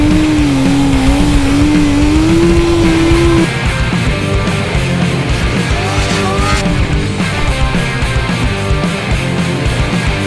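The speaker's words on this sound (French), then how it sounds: "C'est une VMAX digne d'un super moteur mais de 200 chevaux." A Yamaha VMAX motorcycle engine, said to make about 200 horsepower, runs loud and steady close by for the full length, with a rising whine in the first few seconds and a dense, continuous mechanical roar throughout.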